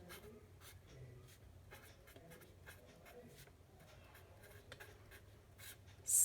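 Pen or chalk writing out an answer during a Sanskrit lesson exercise, faint scratchy strokes in short bursts at close range, soft and quiet throughout.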